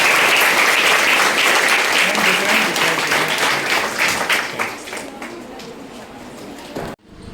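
An audience at a college event in Ranchi claps loudly, a dense burst of applause that gradually thins out and then stops abruptly, with a little talk mixed in.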